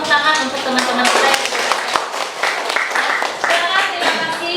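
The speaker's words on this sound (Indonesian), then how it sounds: "kita kasih tepuk tangan untuk teman-teman kita" An audience claps for colleagues after their classroom presentation, a dense patter of many hands lasting the full few seconds, with voices murmuring underneath.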